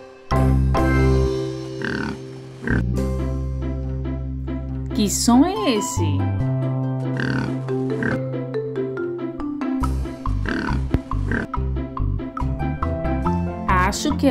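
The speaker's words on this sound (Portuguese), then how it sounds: "É isso mesmo, é o porco." Pig oinking in a children's animal-sounds game, a series of grunting oinks with a musical backing, mixed with a voice talking.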